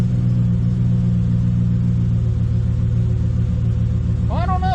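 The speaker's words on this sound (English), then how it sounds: "You can see it's cranking right up now without me having hit the gas." A 2014 Ford F150 V8 idling with a slight misfire, a loud, steady low engine rumble up close, with a brief rising whine or voice-like sound at the very end.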